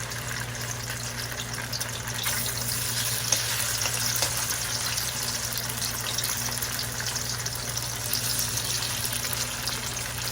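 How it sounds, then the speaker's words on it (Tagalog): Tofu fries in hot oil, a steady even sizzle with soft bubbling held at a constant level and no voices. "pag mainit na po ang mantika, iprito muna po natin ang tokwa"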